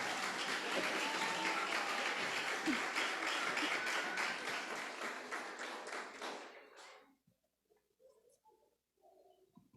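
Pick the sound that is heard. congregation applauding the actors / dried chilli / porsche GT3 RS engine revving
congregation applauding the actors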